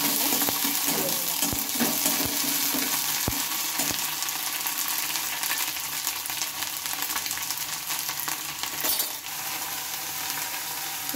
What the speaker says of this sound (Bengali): তো এগুলোকে এখন একটু আমি ভেজে নেব। পেঁয়াজটা দেখো ভাজা হয়েছে পেঁয়াজটা।